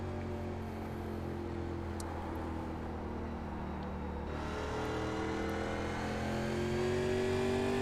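Race cars in iRacing at Richmond Raceway in NASCAR Legends 1987 trim, a steady engine drone with rising harmonic whine as cars close in and pass, continuous and fairly loud without talk.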